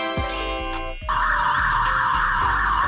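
A police motorcycle siren sounds loud and close, a steady electronic wail held over a low rhythmic engine throb.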